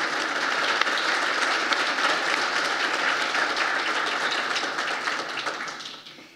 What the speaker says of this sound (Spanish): Le rendimos un fuerte aplauso a nuestro panelista.